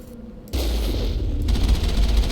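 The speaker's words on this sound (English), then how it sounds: "that is a lot of cannons" Cannons fire in the video game Mass Effect: a quiet lull gives way to a loud, sustained barrage of overlapping booming shots that thickens in intensity toward the end.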